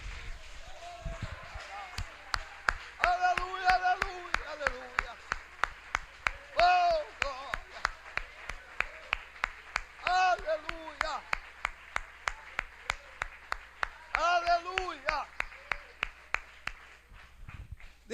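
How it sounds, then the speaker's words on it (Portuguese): A church congregation claps in a steady, rhythmic beat, sharp even claps repeating for many seconds, with voices singing or speaking over the clapping. "Dê um aplauso lindo para o Espírito Santo."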